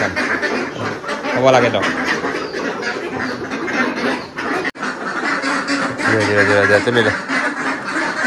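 A duck being caught by hand and weighed, with a few harsh quacks bursting out beneath continuous close conversation from the people handling it.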